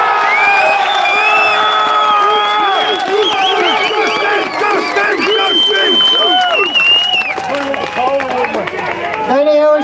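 A large street protest crowd in Dublin cheers, whoops and applauds loudly and continuously for the whole stretch, with many shouting voices blended into a dense, close roar.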